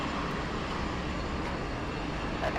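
A Jetstar Airbus A320 jet arriving at Sydney Airport, a steady loud broadband engine roar that holds evenly throughout with no voices.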